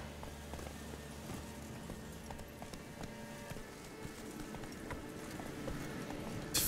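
The horse Roach's hooves clip-clop steadily in The Witcher 3, a continuous, even trotting rhythm that sits moderately close over a low game ambience.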